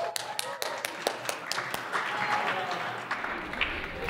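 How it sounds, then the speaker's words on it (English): Applause at an open mic night, a short round of audience clapping with sharp individual claps close by, dying down into room murmur and voices. "Round of applause."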